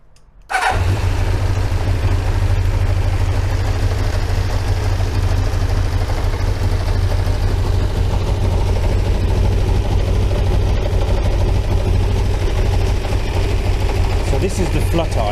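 A motorbike engine idles steadily and loudly throughout, its low rumble carrying an uneven flutter while the carburettors are being synchronised, starting abruptly near the beginning and running without a break.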